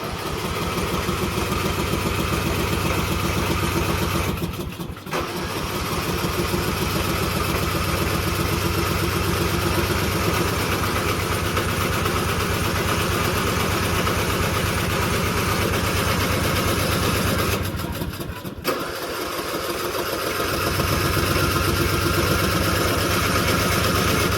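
A lawn mower engine runs after a jump start, a steady loud idle drone close by that holds for over twenty seconds with two brief dips where it stutters.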